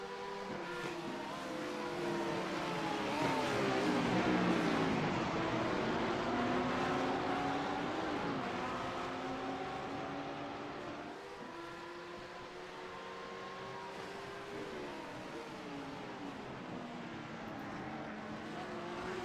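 GT3 race cars at Imola power through a chicane nose to tail, engines loud and close, their tones sweeping down under braking and climbing again as each car accelerates out in a continuous roar.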